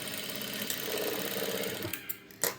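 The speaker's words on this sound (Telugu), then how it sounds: "మనకు ఒరిజినల్ క్లాత్ మీద పడేటట్టు స్టిచ్ వేసుకోవాలి ఇలాగా ఇలా నీట్గా సదిరేసుకుని స్టిచ్ వేసుకోవాలి" A sewing machine stitches a shape belt onto cloth with a steady mechanical whir and buzz. The run lasts about two seconds, then stops, and a few clicks and handling knocks follow. It is close and moderately loud, with no talking.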